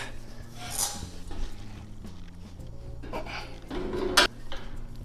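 A heavy standard 20-pound propane tank is set down onto a metal outdoor pizza oven dining cart, making a sharp metallic clank near the end, with scraping and clattering as it is positioned.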